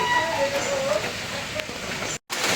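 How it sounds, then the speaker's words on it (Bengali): Steady rain falling outside a rural home in the early morning, a continuous broadband patter with no words spoken, broken by a brief dropout near the end. "বৃষ্টি তো পড়তেই আছে ভোর ছয়টা থেকে বৃষ্টি শুরু হইতে"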